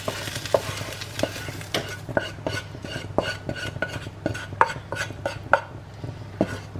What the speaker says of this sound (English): And I'm going to add in my onions and spices into this.